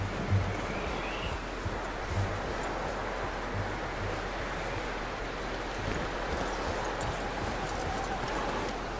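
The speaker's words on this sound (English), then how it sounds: "You should really tether that horse, Arthur." Horse hooves clip-clop steadily in Red Dead Redemption 2 as a horse is hitched at a frontier camp, a soft repeated knocking under a constant wind-like outdoor ambience.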